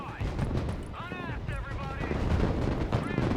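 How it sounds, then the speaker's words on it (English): A Boomerang 57 mm autocannon firing in Broken Arrow gameplay, rapid heavy thumping shots in a steady rhythm amid battle noise, with voices talking over it. "the boomerang autocannon there is fucked. Holy shit. Oh my god, the boomerang just shredding"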